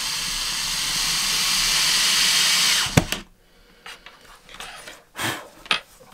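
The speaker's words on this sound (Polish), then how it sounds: "Teraz wkręt wkładam w uchwyt. Przykładam do mojego napunktowania i przykręcam." A power driver whirs loudly and steadily as a screw goes into a drawer slide, then cuts off abruptly, followed by a few short clicks and handling knocks.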